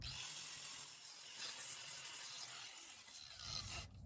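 Steady abrasive rasping as a steel truck frame is cleaned up by hand ahead of welding on an air ride four-link setup, a continuous close scrubbing noise with no talking.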